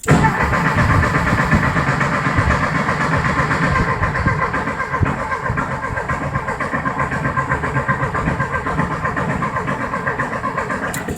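A 1973 VW engine, left sitting 30 years in a shipping container with a corroded gas pedal, runs continuously at a steady idle throughout, loud and close with rough mechanical clatter and no talk.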